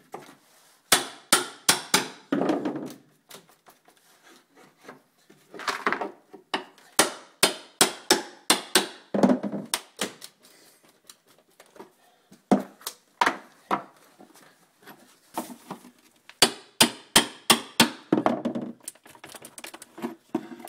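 Staples are worked loose from a hardwood floor with quick series of sharp wooden knocks and taps, close and crisp, coming in rhythmic clusters with short gaps between them.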